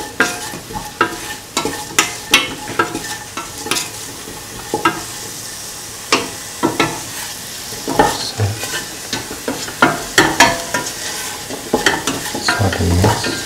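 Cauliflower potato fried rice being stirred and mixed with salt in a pan, with a steady run of close, sharp spatula scrapes and clacks over a light sizzle.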